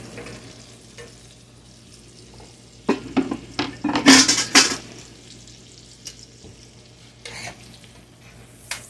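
Onions sizzling in butter in a pan for old-fashioned Scotch stewed potatoes, a steady soft fry broken by a few loud scraping stirs of a utensil against the pan in the middle.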